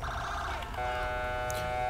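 A police siren wails steadily in GTA 5 gameplay, its sustained tones shifting pitch partway through, with a voice talking over it.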